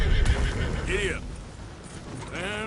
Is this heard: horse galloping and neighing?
yes